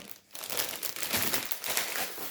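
A plastic bag crinkles and rustles close up, busy crackling bursts continuing for a couple of seconds after a brief pause.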